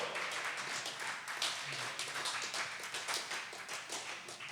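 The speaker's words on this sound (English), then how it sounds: "Applaud the poet." Audience applause for a poet at a live poetry performance, a steady crowd of many hands clapping, fairly distant and soft, continuing evenly for several seconds without talk.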